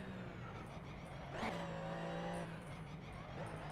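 A car engine drones steadily with a sustained hum, rising briefly as it revs midway, and it carries on without any voices.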